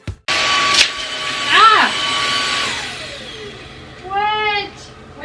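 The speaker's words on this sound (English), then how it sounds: "I loved that vacuum cleaner." Loud household vacuum cleaner running close by, its motor droning steadily and then winding down as the machine breaks, with a brief exclamation and a voice near the end.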